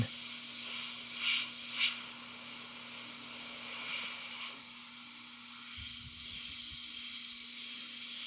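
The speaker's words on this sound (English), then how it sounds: "Just freehand airbrushing so you keep your fur out of focus." An airbrush sprays paint freehand across a fur painting on Bristol board, a steady close hiss of compressed air running throughout with a faint low hum beneath and no voices.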